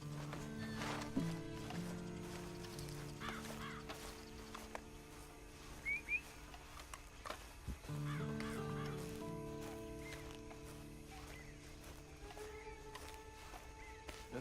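A horse in the Red Dead Redemption 2 video game snorts and clops its hooves at close range, mixed with whistling and light ambient game sounds, with no talk.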